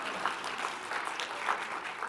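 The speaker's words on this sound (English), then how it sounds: "Quiet golf claps." Sparse, quiet applause from a seminar audience at an authors' conference in Las Vegas, a few soft claps scattered over a couple of seconds with no one speaking.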